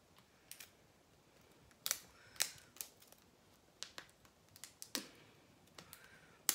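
A Spa advent calendar box being opened by hand: quiet, scattered crisp clicks, snaps and crinkles of cardboard and packaging, irregular and close, with no talk.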